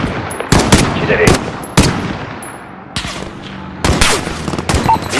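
Gunfire in Call of Duty Modern Warfare on a street during the embassy mission, loud single shots and short bursts spread unevenly across the stretch, with game ambience between them.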